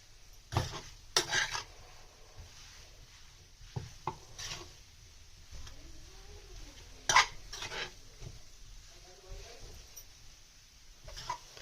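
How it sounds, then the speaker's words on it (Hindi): Mashed potato taco filling is stirred in a pan over low flame with a spoon, giving intermittent scraping and knocking strokes, fairly close, with soft faint sizzling between them. "उसके बाद हम इसमें मैश पोटैटो डालेंगे। उसके बाद हम इसको अच्छे से मिक्स करेंगे।"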